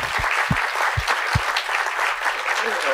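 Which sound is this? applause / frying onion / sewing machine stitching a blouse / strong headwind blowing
applause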